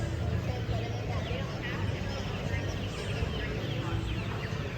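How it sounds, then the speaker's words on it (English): Chickens and other fowl at a family farm expo in Franklin, Tennessee, their calls mixed into a steady crowd hubbub, with people talking nearby throughout. "Chickens."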